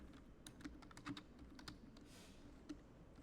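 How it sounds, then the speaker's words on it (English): Light typing on a computer keyboard, a few soft, scattered keystrokes entering a search, faint and close over a quiet room hum. "Let me type screw"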